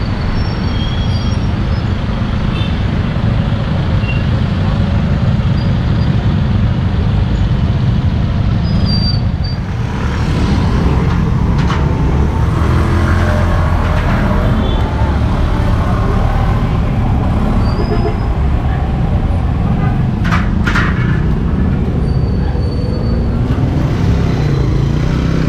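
Heavy road traffic near Fairview and San Jose del Monte, Bulacan, Philippines, rumbles continuously and loudly, a dense engine drone with passing vehicles and occasional faint higher squeaks.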